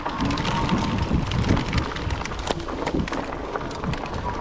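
A hunting e-bike rides through a mud puddle, with a continuous dense wash of splashing and churning noise that stays loud and close throughout, with no voices.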